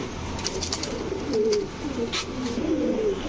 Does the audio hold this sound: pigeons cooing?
yes